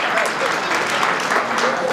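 Warm applause for Aimé's 50th birthday celebration, a dense, steady clapping from a gathered crowd that holds evenly throughout.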